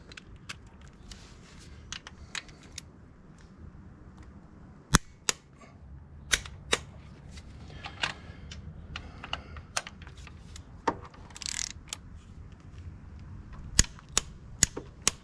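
A torque wrench set to 38 clicks in short, sharp, separate snaps as the front sprocket bolts on a BMW F850GS motorcycle are tightened, heard up close in a quiet workshop with no talk.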